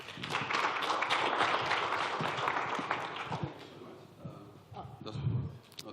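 An audience at a tech talk breaks into dense applause that swells and then gradually thins out to a few scattered claps, heard from a distance and fairly quiet.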